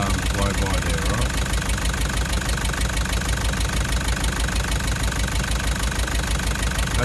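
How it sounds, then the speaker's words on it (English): A car engine with a cracked piston idles loudly and steadily, with a constant rhythmic knocking that runs throughout without a break. "That's what it looks like if you've got a cracked piston."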